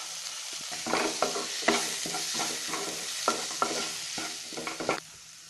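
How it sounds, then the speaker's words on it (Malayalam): Chilli, turmeric and coriander powder sautéing in a pan for a prawn and green peas curry, a spoon stirring with repeated scraping strokes in a brisk rhythm over a soft sizzle, up close and without talking. "ഇനി മുളകുപൊടിയും മഞ്ഞൾപ്പൊടിയും മല്ലിപ്പൊടിയും കൂടെ ചേർത്ത് 1 മിനിറ്റ് നന്നായിട്ട് വഴറ്റണം"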